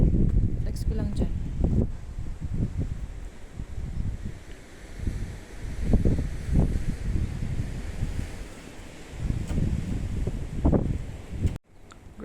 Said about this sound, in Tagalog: Grabing hangin ito.